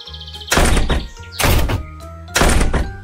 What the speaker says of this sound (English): All three of them closed their doors with a bang.